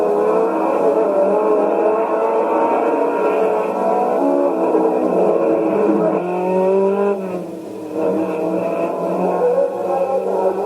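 Race cars at a crash-filled motor race roar continuously, engines droning and revving loud and near, with a brief dip in volume before the din resumes.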